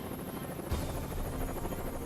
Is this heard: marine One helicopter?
yes